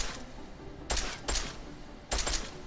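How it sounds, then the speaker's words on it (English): Gunfire at practice targets in the video game Deus Ex Mankind Divided: three sharp, loud shots spaced unevenly over a few seconds, cracking out over a low background hum. "Shoot all targets in their identified weak spot."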